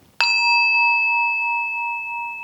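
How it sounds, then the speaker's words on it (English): A single bell struck once to signal a yoga pose change, ringing out loud and clear and then sustaining a long, slowly fading tone in a quiet room. "I'm going to ring this bell,"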